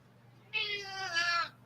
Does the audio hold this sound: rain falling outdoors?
no